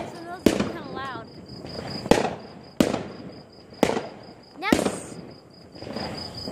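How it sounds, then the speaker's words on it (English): Fireworks go off outdoors in five sharp loud bangs spaced about a second apart, with crackling, whistling and a thin whine between blasts. "Okay, fireworks are really loud."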